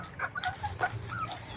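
Several farm chickens give short, scattered clucks and calls at close to middle distance, with no one speaking, against a low, steady outdoor background.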